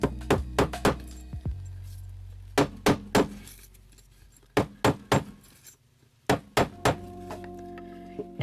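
A mallet strikes copper wire ear hooks on a hard surface in bursts of sharp, close taps, mostly three or four hits per group, with ringing metallic overtones and quiet pauses between groups.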